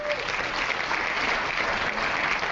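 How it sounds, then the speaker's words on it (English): A group applauds during a reality game show recap discussion, a continuous, even rush of clapping hands that fills the moment at steady volume. "So how about we give a round of applause to Missy right here?"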